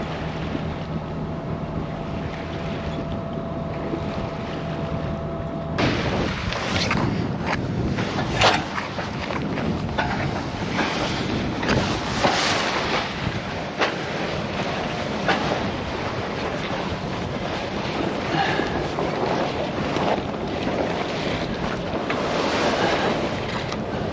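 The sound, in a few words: boat getting underway from shipyard, wind and waves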